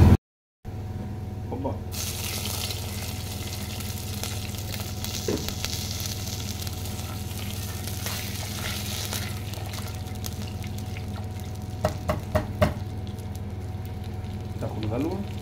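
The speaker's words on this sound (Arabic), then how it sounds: "نحمر التومة دي" Garlic fries in a pan for masaqa'a, giving a steady, close sizzle that holds evenly throughout, with a few faint clinks and knocks near the end.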